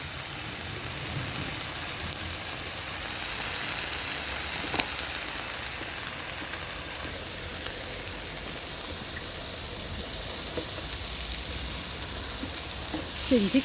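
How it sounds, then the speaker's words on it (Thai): Meat grilling on a moo kratha pan in a backyard, a steady close sizzle and crackle with occasional small pops and no talking. "เนื้อย่าง สดสดหลังบ้าน"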